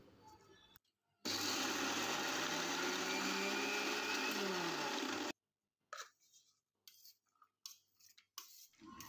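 A mixer grinder coarsely grinds soaked chana dal without added water, a loud steady whir for about four seconds, then stops, followed by scattered clattering and brief bursts.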